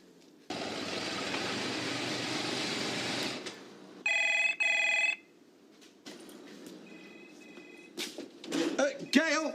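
A telephone rings in a British TV drama scene, sounding as two short, bright, buzzing bursts of ringing in the middle, preceded by a stretch of steady noise and followed by quieter rustles and movement.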